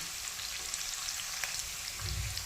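Spices roasting in a hot pan for a Punjabi watermelon rind sabzi, a steady bright sizzle with small crackles throughout, close and continuous, with a low stirring rumble near the end.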